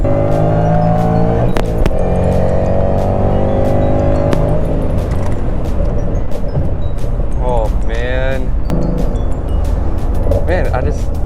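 A 550 whp Ford GT engine revs hard and repeatedly, loud and close, with rising and falling engine tones and some tire noise, while people talk over it.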